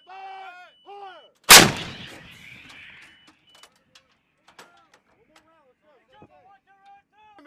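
An Army howitzer with a very long barrel fires once, a single loud, sharp blast followed by a rumbling decay, with shouted commands before it and scattered clicks and short calls afterward.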